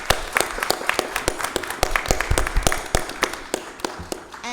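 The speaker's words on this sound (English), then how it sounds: "I think we should give an applause to our amazing panelists." Scattered applause from a modest audience at a panel discussion, individual claps clearly distinguishable and uneven in rhythm, close and moderately loud, continuing for several seconds.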